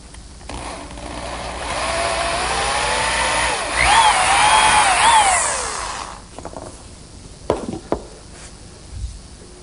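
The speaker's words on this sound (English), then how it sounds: "I'm going to drill some holes for some dowel pins" A power drill whirs up and bores dowel holes into wood for several seconds with a rising whine, then stops, followed by a few clunks and taps.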